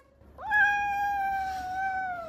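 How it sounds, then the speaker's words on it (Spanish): A single drawn-out cat meow, clear and close, rising at the start and holding steady before fading. "¡Ha dicho miau!"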